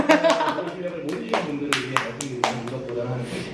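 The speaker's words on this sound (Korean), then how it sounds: "박수 한번 해주세요" A few sharp hand claps ring out at home amid laughter and chatter while people watch a Korea–Japan volleyball match on TV; the claps come as a short, uneven burst under the talking.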